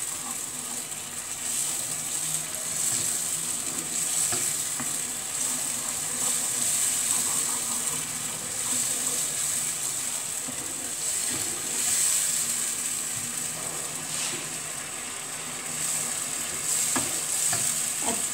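Egg keema masala fries and is stirred in a pan, giving a steady, close sizzling hiss with occasional soft scrapes of a spoon, and no voices.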